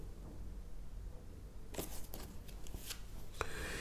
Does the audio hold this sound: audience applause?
no